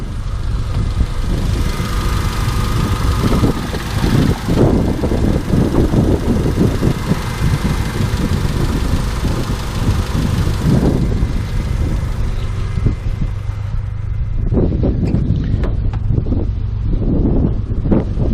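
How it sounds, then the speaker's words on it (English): A 1998 Honda Civic EX idles steadily after a radiator fan replacement, a continuous low engine rumble with wind buffeting the microphone throughout and a few brief knocks near the end. "car's sitting here for an hour, idling, passing overheat."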